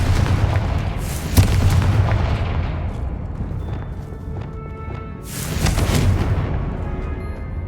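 A Confringo fire spell bursts in Hogwarts Legacy, two loud broadband explosive blasts about four seconds apart, each with a booming low-end swell and crackling decay, set over a continuous rumbling game ambience.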